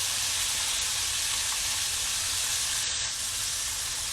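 Steady, loud sizzling of sea bass frying in a pan, a dense continuous hiss with no talking.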